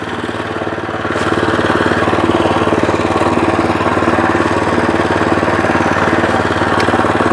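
A Weima WM90 walk-behind tractor engine runs loud and close with a steady, rapid throbbing chug that rises slightly after the first second and then holds continuously.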